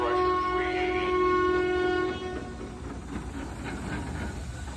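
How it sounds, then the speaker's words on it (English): A train passes near a thrashers reunion, its steady horn blaring loud for about two seconds before cutting off, leaving a rumbling, hissing roll of rail cars beneath. "Darn train."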